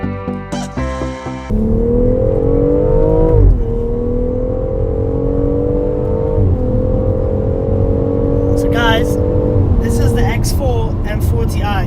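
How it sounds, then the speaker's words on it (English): A BMW X4 M40i with its 3-litre performance engine revs and climbs through several rising pulls, loud and close, after a short burst of sharp knocks at the start, with crackles and pops near the end. "right behind me here is the X4 M40i, which is going to be very, very nice to drive. It's got the BMW's performance engine, the 3-litre."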